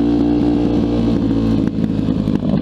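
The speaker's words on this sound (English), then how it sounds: "Man, this thing's still running like shit." A dirt bike engine runs rough with a steady, loud, close drone and an uneven clattery pulse. Its pitch dips briefly partway through.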